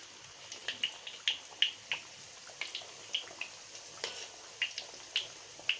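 Samosas made from raw roti fry in hot oil, a soft steady sizzle broken by frequent small crackles and pops, quiet and close, with no talking.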